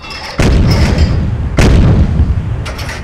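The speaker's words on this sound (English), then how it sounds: "I'm opening up fire because he's definitely seen us." Naval guns booming in a Battle of Leyte Gulf naval combat game as ships open fire on a destroyer, two loud heavy salvos about a second apart, each rolling off into a rumbling tail.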